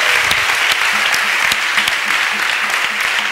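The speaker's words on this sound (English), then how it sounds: "Let's clap for Jesus." A church congregation clapping for Jesus in a Yoruba-language service: loud, close rhythmic applause with steady, evenly spaced beats throughout, many hands together, with faint voices mixed in.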